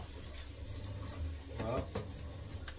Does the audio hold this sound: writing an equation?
no